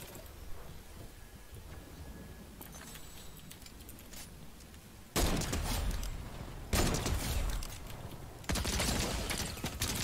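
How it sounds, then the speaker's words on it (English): Shotgun blasts in a video game: after a quieter stretch of low rumble and small clicks, three loud, broad bursts land a couple of seconds apart, each ringing out with a long noisy tail. "This shotgun's crazy."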